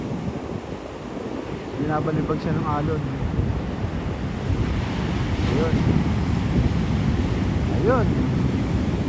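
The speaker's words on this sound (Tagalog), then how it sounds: "Binabalibag siya ng alon." Ocean surf at Half Moon Bay rumbles and crashes steadily against strong wind buffeting the microphone, with someone briefly speaking over the waves.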